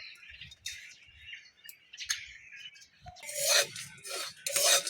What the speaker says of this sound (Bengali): গোটা জিরে গোটা গরম মশলা দুটো শুকনো লঙ্কা শুকনো খোলাই ভেজে নিচ্ছি